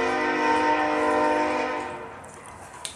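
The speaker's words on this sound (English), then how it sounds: "We are right next to the train tracks. And every time we do videos, that sucker wants to drive by." A train horn blares loudly in a long sustained tone, then fades as rumbling rail noise continues, with a faint click near the end.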